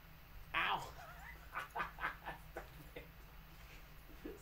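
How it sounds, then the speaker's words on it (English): Dog whimpering and giving a few short yips and barks indoors, a quick series of high whines and clipped barks close by, with a person's voice speaking alongside. "This dog."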